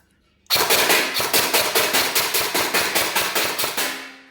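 An SQB electric gel blaster fires a rapid, steady burst of about fifteen loud, sharp shots at a target, each crack evenly spaced in a continuous automatic run before stopping abruptly.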